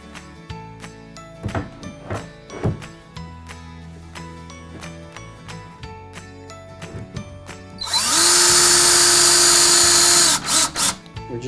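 A power drill drives screws into the end panels of a foosball table cabinet, one loud whining burst near the end standing out over earlier clicks and knocks of assembly work.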